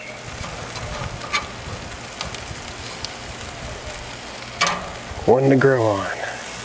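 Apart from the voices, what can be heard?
smoked Korean BBQ chicken wings sizzling over hot coals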